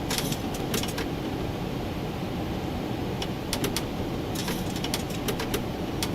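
A Honeycomb throttle's speed brake lever, used in a Boeing 737-800NG flight simulator and seemingly misaligned, clicks in sharp clusters of rattling ticks over a steady background engine hum.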